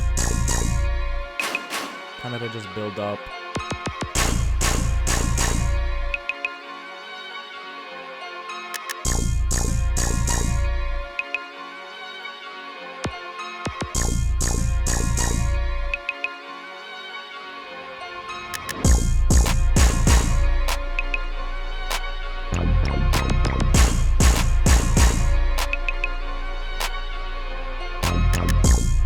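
Hip-hop beat intro built from a layered melodic sample with booming 808 bass hits that drop in and out in loud bursts, with a short spoken line near the start.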